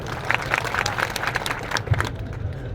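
A crowd claps at a political rally in Tharad. The applause is brief and scattered, heard close and moderately loud, with a few sharper individual claps standing out.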